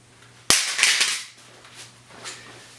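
An M9A1 pistol hits the floor in a drop test, one sharp, loud metallic impact followed by a brief rattle and a couple of fainter clatters as it settles.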